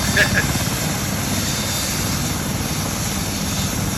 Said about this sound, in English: That's my favorite helicopter right there.